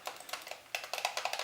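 Buttons on the black Retron 5 control paddle click repeatedly, a close series of light plasticky taps in uneven quick bursts.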